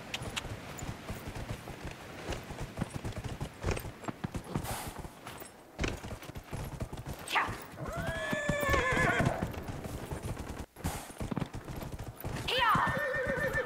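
In the video game Dragon Age: Inquisition, horse hooves clip-clop steadily while a horse neighs twice with rising whinnies, heard over game ambience with some talk in the background.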